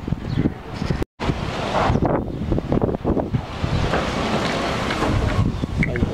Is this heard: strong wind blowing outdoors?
yes